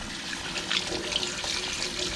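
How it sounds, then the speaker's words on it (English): A white-tailed deer heart rinsed out chamber by chamber under a running water tap, with a continuous close splashing stream and small gurgles. "I'm going to give it a good rinse off"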